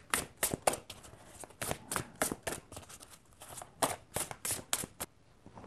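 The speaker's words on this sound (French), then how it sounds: "Je vais prendre l'oracle de Gaïa et je vais mélanger jusqu'à ce que j'ai 4 cartes qui sautent" Gaia oracle cards being shuffled by hand, a quick series of crisp riffling bursts and card snaps in an uneven rhythm, close and fairly quiet, with no talking.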